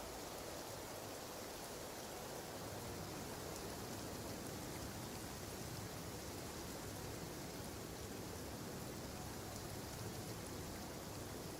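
Steady rain in the Genshin Impact video game, a dense, even hiss of falling water that continues unbroken at a moderate level throughout.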